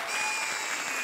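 A comedy show audience claps loudly and steadily, a dense wash of applause filling the whole short moment with no voices over it.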